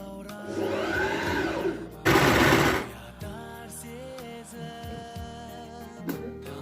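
A sewing machine stitches a saukele, the traditional Kazakh headdress, its motor whirring in uneven runs with one loud, fast burst partway through.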